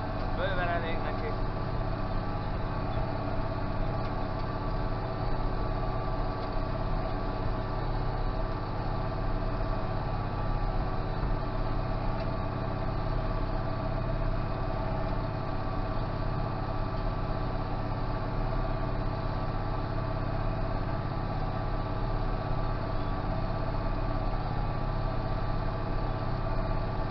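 A Zetor 16145 tractor engine drones at a constant 1800 rpm throughout, an even low hum with no change in pitch, close by and continuous, while tilling corn stubble.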